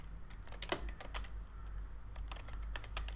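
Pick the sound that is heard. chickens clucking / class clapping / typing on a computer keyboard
typing on a computer keyboard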